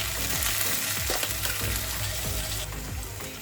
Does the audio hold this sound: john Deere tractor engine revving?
no